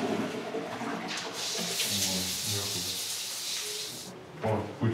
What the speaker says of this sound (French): ça fonctionne, la chasse d'eau